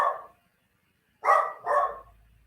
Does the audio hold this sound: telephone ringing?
no